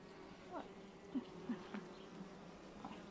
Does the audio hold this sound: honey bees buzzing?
yes